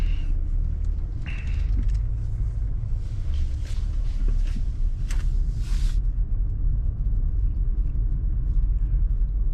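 Steady low engine rumble of a 2023 Toyota Tundra full-size pickup idling and creeping through a tight cul-de-sac turn, with occasional faint creaks and clunks over the drone.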